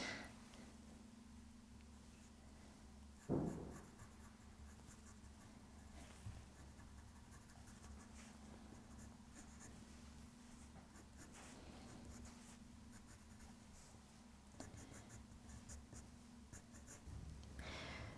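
Pencil shading on paper while drawing an owl, a soft continuous scratchy rasp of graphite strokes under a quiet steady hum, with a brief louder knock early on.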